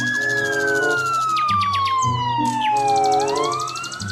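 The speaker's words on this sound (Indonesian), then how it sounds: "ada mobil damkar." A toy fire truck's electronic siren wails loudly and close by, with a long falling tone and bright warbling sweeps layered over a steady mechanical background.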